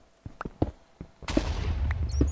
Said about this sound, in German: Gerade ist was explodiert.